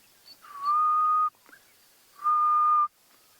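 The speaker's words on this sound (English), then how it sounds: "Grey-headed bushshrike." A grey-headed bushshrike at Ngala Private Game Reserve gives two long, steady, mournful whistled hoots separated by a short pause, clear and fairly loud against a quiet background.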